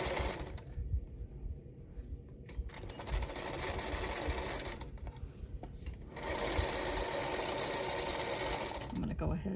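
Sewing machine stitching a quarter-inch seam on a quilt block, a steady close mechanical whirr in two runs with a brief pause between, with a voice speaking over it.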